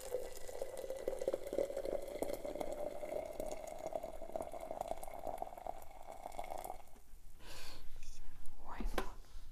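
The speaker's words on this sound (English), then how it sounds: "The water is boiling. Kind of can hear it, right?" Steady bubbling hiss of boiling water that stops abruptly near the end, followed by a few brief handling clatters.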